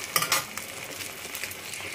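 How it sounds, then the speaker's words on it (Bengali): An egg omelette fries in a pan with a soft, steady sizzle. Occasional stirring scrapes and light utensil clinks sit close by and fairly quiet, with no voices. "এদিকে ডিমের অমলেট ভাজা হচ্ছে।"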